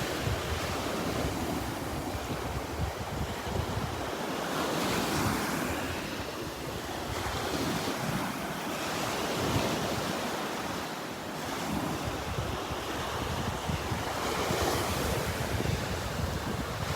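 Ocean waves breaking on a beach in North Naples, Florida, a continuous broad roar of surf rising and falling in slow swells, with wind buffeting the microphone and no talk.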